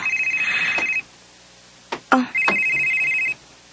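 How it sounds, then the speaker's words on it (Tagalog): A telephone rings in two electronic trill bursts, each about a second long, separated by a pause with a few brief clicks and thumps, heard close in a quiet room. "Si Junjun maning nanawag"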